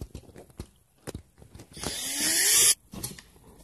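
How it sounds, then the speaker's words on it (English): A short burst of drilling through a steel bicycle tire plate, a rising whine lasting about a second amid scattered clicks and handling noises. "drill at the center line of the tire at that mark"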